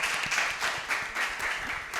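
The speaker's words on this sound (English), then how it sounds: "Let us give a round of applause for candidate 5." A student council election debate audience breaks into sustained applause for a candidate, steady dense clapping throughout at moderate loudness.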